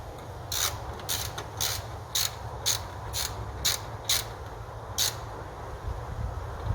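A hand ratchet tightens bolts on a CPG performance intake on a BMW N63 engine, giving a faint, evenly spaced series of about ten sharp clicks over a low background hum.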